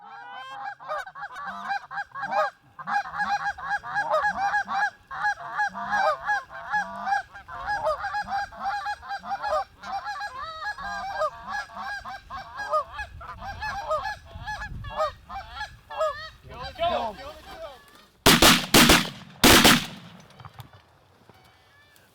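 A flock of geese honks continuously overhead during a late-season field goose hunt, a dense, loud chorus of calls that thins out before two sharp shotgun blasts near the end.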